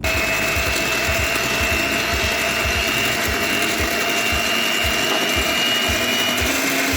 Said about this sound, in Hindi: सबसे पहले मैंने क्रीम ली है और मैं इसे बीट करूंगी